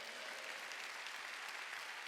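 A church congregation applauds during a Wednesday worship service, producing continuous, even clapping from many hands that fills the whole stretch without a pause or any voice over it.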